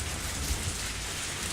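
Rain falls in a video game scene as a dense, steady hiss of broadband patter, constant and close, with no voices over it.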